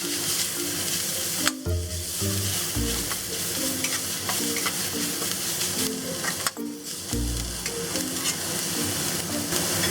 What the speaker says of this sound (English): Add the pickled mustard. Give this a toss.